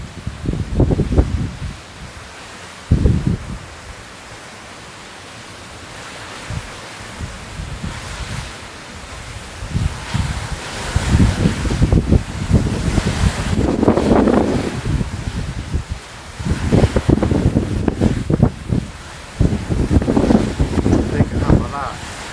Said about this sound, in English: You hear it picking up the wind.